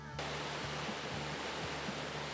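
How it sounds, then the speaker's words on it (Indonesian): A waterfall's steady roar fills the air as a dense, unbroken rush of falling water, loud and constant throughout with a faint low hum beneath. "Suara deru air terjun yang terdengar seperti menggoda pengunjung untuk terus mendekat"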